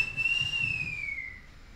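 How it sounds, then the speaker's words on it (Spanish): A construction worker gives one clear whistle at a passing woman, a single sustained tone that glides slightly downward, heard alone and fairly faint. "Primero la miraron y uno de ellos silbó al verla"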